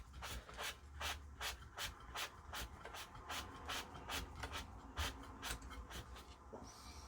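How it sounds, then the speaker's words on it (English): Steady back-and-forth scraping of a sanding block on wood, rhythmic strokes about every third of a second, close and fairly loud, during VCR restoration work. "Use this piece of sanding block to do this."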